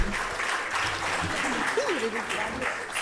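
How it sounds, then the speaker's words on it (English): Applause from the audience at a university building event in honor of a genomic medicine facility, a steady wash of clapping with a voice faintly heard over it. "Ladies and gentlemen, help me with a round of applause"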